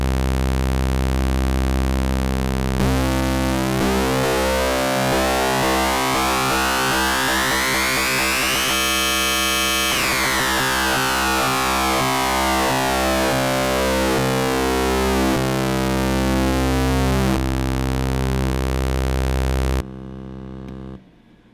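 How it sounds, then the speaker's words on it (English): An FM synthesizer using a sine wave oscillator drones continuously for about twenty seconds, its tone sweeping and shifting in timbre, before abruptly cutting off. "use a sine wave as my oscillator for that smooth effect"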